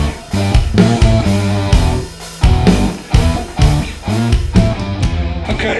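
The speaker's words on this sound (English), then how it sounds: "So you hear your original pitch guitar, and then you hear a harmonized pitch over the top." An electric guitar runs through a Digitech Whammy WH-1 pedal on its harmony setting, a played phrase of loud, punchy picked notes and chords, each doubled by a shifted pitch layered above, with brief gaps between strums.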